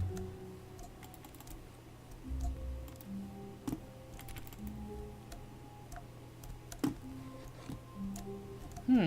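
Office wall clocks ticking in The Stanley Parable, a quiet, regular series of sharp ticks against a low room hum, with soft clicks and tones scattered between them.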